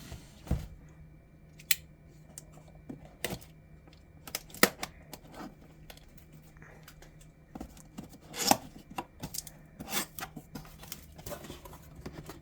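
Cardboard laptop box being cut open for a Lenovo IdeaPad 1 Ryzen 5 7520U, heard as scattered sharp slicing and snipping bursts with quiet pauses between, close and fairly faint, no talking.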